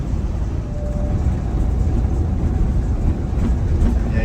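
A Detroit diesel engine with a newly fitted turbo labours steadily under light throttle as an overweight bus climbs. The drone is loud, continuous and low, with rumbling cabin and road noise.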